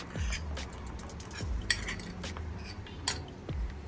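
A spoon stirs cocoa powder and ragi flour into hot milk, a soft close scraping with repeated light clinks against the pot at a steady rhythm.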